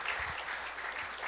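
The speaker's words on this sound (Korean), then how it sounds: "박수로 격려해 주셔서 너무 감사드립니다." Brief applause from a church congregation at a Friday evening service, a steady wash of clapping throughout with no voices over it.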